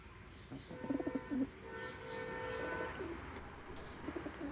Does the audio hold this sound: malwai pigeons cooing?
yes